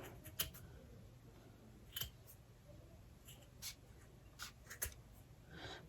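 Scissors snip through craft material for a gnome wreath stuffie, a series of quick, crisp clicks and short cuts spaced irregularly, close and fairly quiet over faint room noise.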